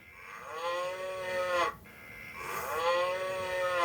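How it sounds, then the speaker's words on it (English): A mooing cow ringtone plays on a Nickelodeon Talk Blaster toy phone, two long drawn-out moos with a brief gap between them, fairly close and clear with no voices. "This one is literally a cow."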